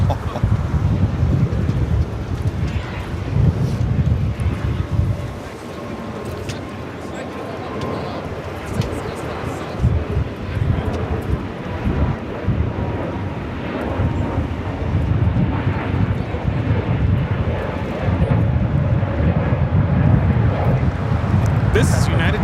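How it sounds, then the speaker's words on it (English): A United Airlines Airbus A321neo takes off from Los Angeles International Airport bound for Denver, its broad, steady engine roar filling the whole span amid wind buffeting, with people talking nearby. "This is United Airlines 1260 taking off to Denver on the A321neo."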